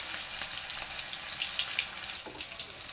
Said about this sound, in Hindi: अब डालते जाएंगे इसमें अपने कोफ्ते। फ्राई करेंगे